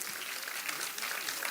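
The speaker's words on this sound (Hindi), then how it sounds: "तालियां आ रही हैं आपके हक में" Audience applause at an All India Mushaira poetry recital in Chakrapanpur, a faint, even patter of clapping from a distant crowd that carries on through the whole moment.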